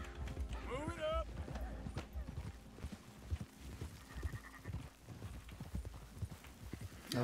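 Steady clip-clop of horse hooves at a brisk rhythm in a video game, with bleating sheep and game background noise, and a person talking over it.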